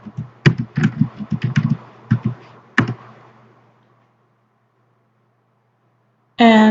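Several quick keystrokes on a computer keyboard, close and clicky in a short uneven burst, then silence before a voice begins speaking.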